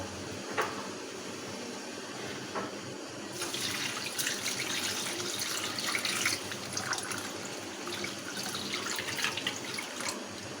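About half a kilo of polao rice is washed in water, with a continuous wet rush and swishing that grows louder partway through and a few sharp knocks, close by and with no voices.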